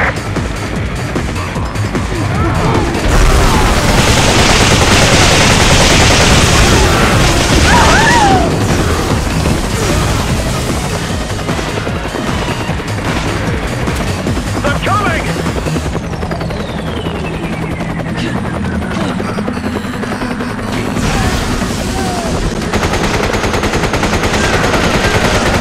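Rapid automatic gunfire and explosions crackle continuously through a Resident Evil 5 versus team match, dense and loud throughout with occasional booms.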